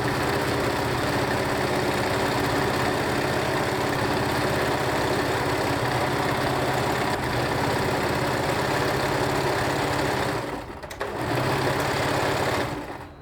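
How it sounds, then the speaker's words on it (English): A sewing machine stitching along the edges of patchwork fabric runs as a steady, loud mechanical whir throughout, with only a brief dip near the end. No voices are heard. "Next, I will take this to the sewing machine and sew all along the edge."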